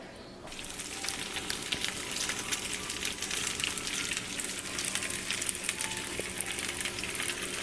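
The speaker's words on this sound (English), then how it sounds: "we're just dropping these lovely lump crab cakes in our cast iron skillet" Lump crab cakes drop into a hot cast iron skillet and sizzle, a steady bright crackling hiss that starts abruptly and holds at moderate level with small pops, no talking.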